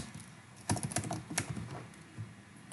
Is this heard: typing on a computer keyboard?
yes